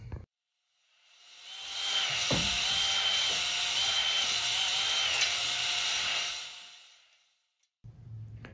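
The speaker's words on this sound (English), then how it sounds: "I'm going to use this 3-stone cylinder hone." A drill-driven 3-stone cylinder hone works inside an engine cylinder of a Mopar 318, a high whirring grind that ramps up, holds steady for about five seconds, then winds down, with clunks before and after.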